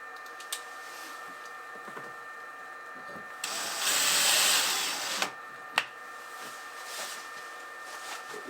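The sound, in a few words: power drill driving screws into wall stud for hat rack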